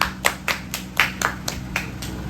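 About nine sharp hand claps ring out in a steady, fairly quick rhythm at a local auction, close and clear with no talking over them.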